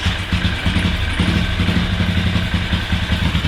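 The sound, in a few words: Moto Guzzi motorcycle engine idling with choke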